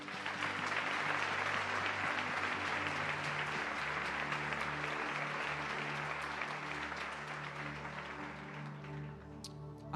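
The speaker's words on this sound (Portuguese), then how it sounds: "Você pode aplaudir Jesus?" A church congregation applauds during a Portuguese-language worship service, a sustained wash of clapping heard from a distance over a low held organ or keyboard tone.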